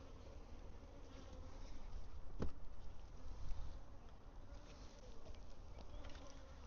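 Honeybees buzz steadily around a hive in a desert setting with blooming mesquite nearby, a continuous close, moderately loud drone with one brief sharp tap partway through.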